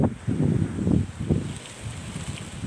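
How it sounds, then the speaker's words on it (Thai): Strong wind gusting across an open roadside, a steady low rumbling buffet on the microphone that swells and eases in waves, with no voices. "ลมแรงมากนะครับ"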